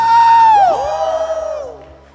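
Church congregation at an online prayer service cheering together, a rising swell of voices and whoops that peaks early and then fades over about two seconds, loud and close.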